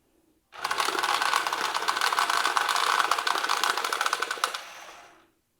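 Deck of playing cards being riffle-shuffled during a Canasta game, a close, rapid continuous ratcheting flutter lasting about four seconds, then a brief settle as the cards come together.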